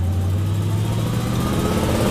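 A 1950 Oldsmobile 88 engine idles steadily with a low, rumbling throb, close and continuous, a slight roughness creeping in toward the end.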